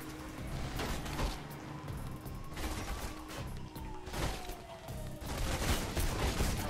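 Gunfire in Mirror's Edge, repeated bursts of shots with mechanical clatter and impacts, steady and fairly loud over a humming background, no talk.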